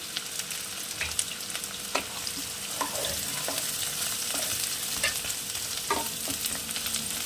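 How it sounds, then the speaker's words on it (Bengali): Three medium chopped onions fry in oil in a pan, a constant bright hiss of sizzling with occasional soft scrapes and taps of a stirring spoon, close up and without any voices. "আমি 3টে মিডিয়াম সাইজের পেঁয়াজ কুচি নিয়ে রেখেছি, সেই 3টে ভেজে নেব"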